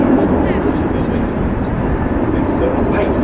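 Airbus A380 airliner flying at the Farnborough air show, a steady broad roar of jet engines that holds at constant loudness throughout, fairly close and dense, with speech likely mixed in beneath it.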